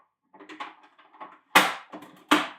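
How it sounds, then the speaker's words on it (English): A PGM 1 arcade cartridge is pushed into its slot: soft scraping and rattling, then two sharp, loud clunks as it seats, close to the microphone with no talking. "that is the sound of a PGM 1 cart going in"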